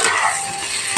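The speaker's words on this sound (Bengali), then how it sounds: "দেখুন পোস্তটা ভাজা ভাজা হয়ে এসছে, প্রায় শেষ" Poppy seed paste frying in a pan while being stirred, a steady close sizzle with faint scraping throughout, no voices.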